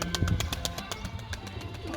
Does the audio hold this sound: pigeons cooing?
yes